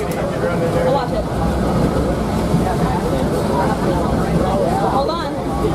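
Mount Washington Cog Railway steam engine running on its 8 AM run, a steady broad mechanical rumble and hiss heard close up on board the train, with people talking throughout.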